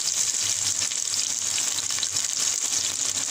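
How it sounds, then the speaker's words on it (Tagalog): White onion browning in a pan, a steady close sizzle of frying with a bright, hissing texture and no talking. "I-brown ko lang tong white onion"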